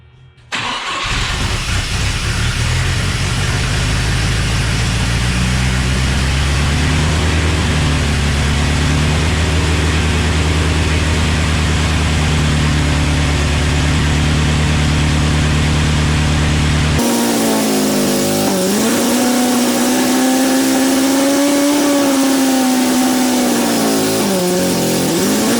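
A 3.0L turbo boat engine swapped into a Chevy S10 cranks and catches, then runs with a loud, close, rough idle rising in a couple of revs before the sound cuts abruptly to a different, whining drone.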